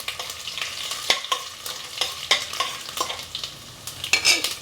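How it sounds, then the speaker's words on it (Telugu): Mustard seeds and dried red chillies crackling and spluttering in hot oil for a tomato and amaranth curry, a steady close sizzle broken by sharp popping bursts, with no voices. "ఆవాలు చిట్టపట్ట అంటున్నా వేసేస్తున్నా"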